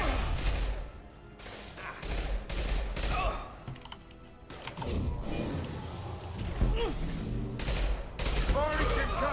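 Rapid bursts of gunfire and explosive impacts from a Mass Effect 2 firefight, loud and dense, with in-game combat voices talking over the shooting.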